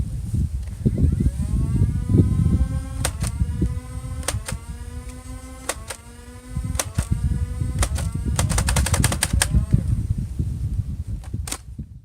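A Nerf Fortnite AR-L blaster firing: a motor whine rises and holds while a series of sharp clicks pops out darts, growing into a quick burst near the end, close and loud over background noise.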